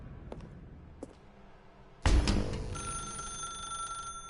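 A telephone in The Stanley Parable starts ringing abruptly after a couple of faint knocks, a sustained electronic ring that holds steady and loud, with no talking.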